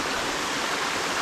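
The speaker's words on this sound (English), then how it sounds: "It was a nice place with a lot of rocks and water flowing through it." Water rushes over rocks beside a small waterfall at a rocky bathing place in Bulutota, Sri Lanka, making a loud, steady, broadband roar with no break and no voices.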